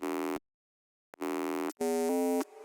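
A synth sustain bass made in Serum 2 from a distorted sine wave plays as loud, buzzy held notes with short gaps between them, the last note shifting in pitch before it cuts off.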